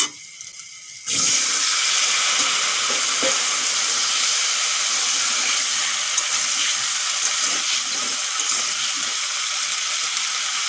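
Cauliflower florets tipped into hot oil with lightly fried potatoes, salt and turmeric burst into a loud, steady sizzle that starts suddenly after a quiet second and holds at full strength, with faint stirring scrapes beneath.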